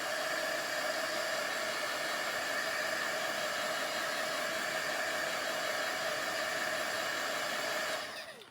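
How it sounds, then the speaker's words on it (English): A heat gun blows hot air to dry paint on a card, a steady, close, hissing whoosh that holds evenly for several seconds before cutting off at the end. "I'm going to hit it with the heat gun."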